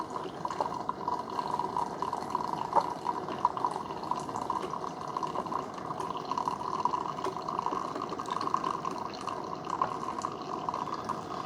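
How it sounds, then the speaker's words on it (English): Hot water running through a Keurig K-Express single-serve coffee maker with a K-Cup rinse pod, a quiet steady trickle and patter of liquid with small drips throughout. "it just kind of like acts like water. Like just hot water going through there."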